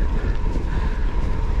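Strong wind roars and buffets the microphone during a bike ride overlooking the Agly valley and Canigou, a steady, loud low rumble with gusty fluctuations and no talking.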